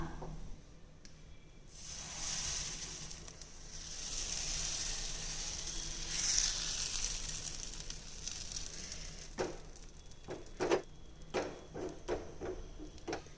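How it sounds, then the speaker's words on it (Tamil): A hissing sizzle swells as appam batter meets a hot pan over a medium flame, followed by scattered clinks and scraping sounds close by. "இப்போ நம்ம ஆப்பம் ஊற்றிடலாம்."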